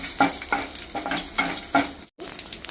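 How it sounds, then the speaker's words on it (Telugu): Dried red chillies fry in hot oil with a soft continuous sizzle, punctuated by regular scraping stirs of a spoon in the pan. "చిన్నవి నాలుగు ఎండుమిర్చి వేసుకొని ఇలా కొంచెం పోపు దాకా"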